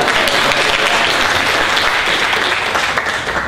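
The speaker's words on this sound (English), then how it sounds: "Round of applause." An audience at a parent workshop poetry and writing session breaks into loud, continuous applause, a full, dense wall of clapping that holds steady from start to finish.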